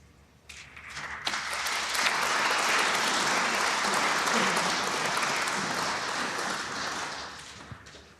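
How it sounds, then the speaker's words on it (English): Crowd applause in a snooker arena at the British Open, swelling quickly to a dense, steady roar of clapping from a distant audience, then tapering off with a few isolated claps at the end. "More applause from table 2"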